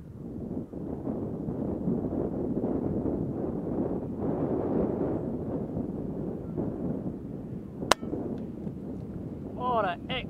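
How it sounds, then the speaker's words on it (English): Strong outdoor wind buffets the microphone with continuous low rumbling gusts, broken by one sharp crack near the end. "Wind."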